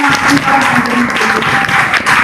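Loud, close clapping rises from students and staff at a 10th-class Urdu quiz at a government Urdu high school in Malaghan, Sindagi, Karnataka, greeting the winning team, with a voice sounding through the applause.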